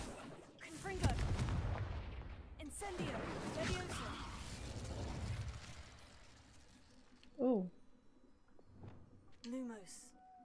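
Booming, crackling spell effects from the Hogwarts Legacy video game, Confringo and Incendio blasts, sound as dense, loud bursts over the first half under steady talk, then two short sharp magical zaps near the end.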